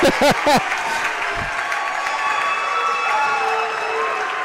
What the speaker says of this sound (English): Taylor Dominic launches a three, and the crowd goes wild